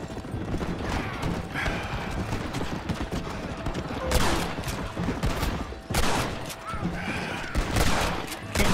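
Gunfire during a shootout in the Red Dead Redemption video game, bursts of shots over a dense, noisy background with horse hoofbeats, loud and continuous throughout.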